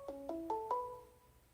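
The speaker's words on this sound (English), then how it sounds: "Hold on a second, I've got a phone call." A phone ringtone plays a quick four-note rising chime, each note ringing on and fading out, moderately quiet in a garage setting.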